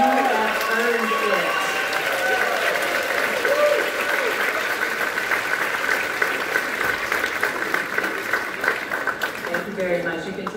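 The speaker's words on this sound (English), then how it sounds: "Enjoy your applause. You have earned it." Sustained audience applause at a high school spring concert, dense steady clapping filling the hall for about ten seconds, with some voices faintly audible underneath.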